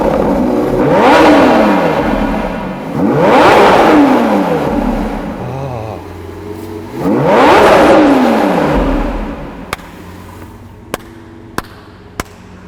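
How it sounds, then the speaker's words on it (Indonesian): Lamborghini Aventador SVJ Roadster V12 revving hard in three loud, close bursts, each rising and falling, with idle rumble between and a few sharp ticks at the end. "ketika dengar suara mesin V12-nya"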